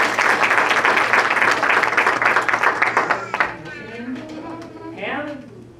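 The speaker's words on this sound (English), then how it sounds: "Give her a round of applause" A round of applause from the audience at a small-town weekend magic show, dense clapping for about three seconds that fades out, followed by a voice speaking.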